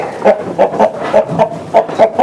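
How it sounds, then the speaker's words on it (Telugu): Chickens and roosters, including Bhimavaram-breed fowl, clucking on a sheep farm, with repeated short close clucks and calls in an uneven rhythm and no talk. "వీళ్ళైతే కింద కూడా కోడి పుంజులు కోళ్ళు అయితే సాకుతున్నారు"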